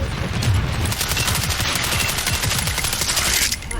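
Sustained automatic gunfire fills the battlefield in the video game World War 3, a dense, loud, continuous fusillade with a rapid rattling rhythm and a distant background roar.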